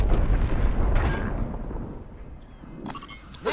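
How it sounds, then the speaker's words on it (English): Precision airstrike explosions in the Call of Duty Warzone video game, a heavy rumbling blast that decays over a few seconds, followed by a sharper burst near the end. "Friendly precision airstrike inbound."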